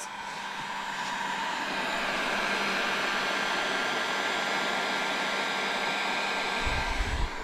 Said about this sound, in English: the answer is the heat gun does work